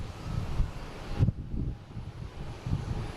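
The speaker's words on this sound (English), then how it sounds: "It's so windy out." Gusty wind buffets an outdoor microphone at an airport, a low rumbling roar that rises and falls in soft bursts throughout, with no talking.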